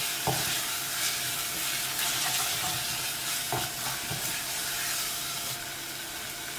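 Beef mince with garam masala sizzles and hisses in a pan for Goan kheema, a continuous fry broken by a few clacking stirs, close and steady, with no talking.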